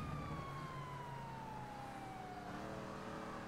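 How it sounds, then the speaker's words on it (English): A wailing siren sweeps slowly downward over a steady rumble of road traffic, fairly close and continuous, with no talking. "Oh, I hear more sirens."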